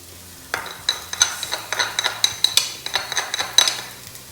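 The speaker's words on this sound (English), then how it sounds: "Our onion is nice and soft now, so we're going to add in garlic." Garlic hits a pan of softened onion and sizzles beneath a quick run of stirring clicks and scrapes, the spoon tapping the pan in a busy, close rhythm.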